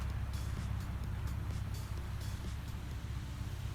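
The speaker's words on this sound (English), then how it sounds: "It's a little cool out here, so we got some smoke, but the car sounds great." A rebuilt yellow 1983 Porsche 944 engine idles on a cool evening, giving off some smoke, with a steady low rumble and faint rhythmic ticking, heard close and alone.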